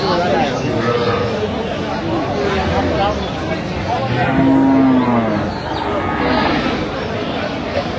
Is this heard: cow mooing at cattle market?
yes